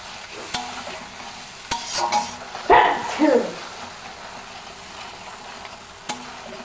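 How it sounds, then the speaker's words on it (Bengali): Tomatoes and spices being sautéed together in a pan for a tengra fish curry, a low sizzle under brief scraping stir strokes and a louder burst of frying in the middle, close and alone. "সব কিছু একসাথে ভালোভাবে কষাই নিব।"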